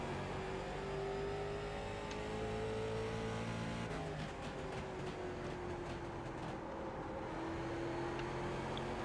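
Late model race car engine in the iRacing sim, a steady loud drone with shifting pitch as it works through a corner, continuous for the whole stretch with no talk.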